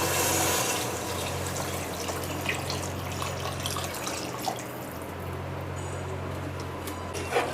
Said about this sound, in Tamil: ஸோ அளந்து வச்ச அந்த தண்ணியை இதில் சேர்த்துக்கலாம்.